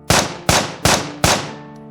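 Four loud gunshots fired in a radio drama, evenly spaced sharp cracks that each ring out and decay, with no voices heard over them.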